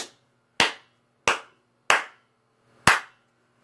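Four crisp hand claps sound in a small studio room being checked for its acoustics, spaced under a second apart, each leaving a brief ringing tail before silence.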